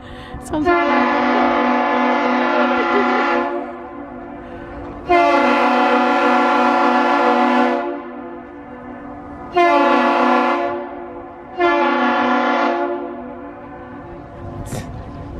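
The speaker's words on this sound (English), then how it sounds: "The boat sounds like a sick cow." A Great Lakes freighter's horn sounds at the Duluth lift bridge: four long, loud, deep harmonic blasts, each lasting a few seconds with short pauses between them, heard alone with no talk over them.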